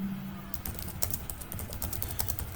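Rapid keystrokes on a computer keyboard as an email greeting is typed into Gmail, a quiet, steady patter of clicks close by over a low background hum.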